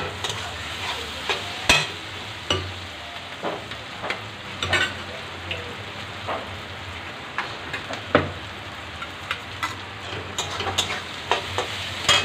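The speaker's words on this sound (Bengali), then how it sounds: "ডিম ফেটে নেব।" Eggs beaten with a spoon in a bowl give a series of irregular clicks and taps over a soft hissing background, close but fairly quiet, with no voices heard.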